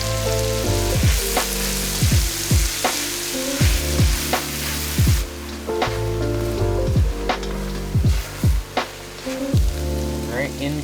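Mushrooms and onions sizzle and crackle in a hot pan at a cold mountain truck campsite, a steady close fry broken by repeated scraping stirs, with a voice speaking now and then.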